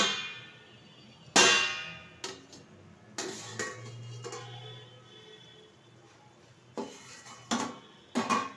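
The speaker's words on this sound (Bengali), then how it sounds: "ঢেকে দিচ্ছি, ঢাকনাটা তুলে দিচ্ছি" A metal lid is set on a cooking pot of okra and potato curry, producing several sharp clangs and clinks spaced apart with quiet gaps and a low hum between them.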